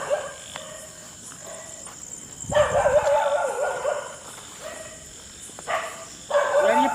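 Dogs bark in short, irregular bursts at an old school building in Rajasthan, moderately close, over constant background noise.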